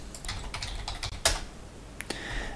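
Keyboard clicks from a computer keyboard while logging into a Grafana dashboard on a Raspberry Pi setup: a quick run of close, crisp keystrokes, one sharper louder clack near the middle and a couple of spaced taps after, with no voices.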